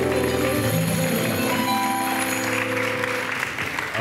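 A studio audience on a Turkish TV entertainment show applauds as a guest is welcomed, a loud continuous wash of clapping with sustained musical tones running underneath.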